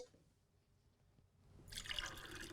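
Water is poured into a glass in a TV drama scene: a quiet room gives way to a rising, bright splashing fill that swells over the last second, alone without talk.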